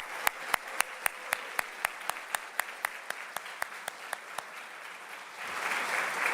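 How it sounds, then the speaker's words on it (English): Applause at a breakfast plenary honoring Latina elected officials, beginning with sharp rhythmic claps in a steady beat before swelling into broader, denser clapping from the room. "Let's give them a round of applause."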